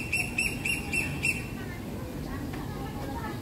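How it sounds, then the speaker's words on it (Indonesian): Several short, high bird chirps in an aviary park in Kowloon repeat in quick succession over a low background hum, then fade into ambient noise. "Itu suara burungnya."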